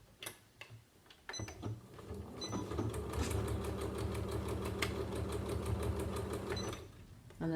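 Sewing machine stitching steadily along the edge of fabric while joining two seams of a drawstring knitting bag, a close, continuous mechanical whir with a rapid ticking needle rhythm after a few brief starts.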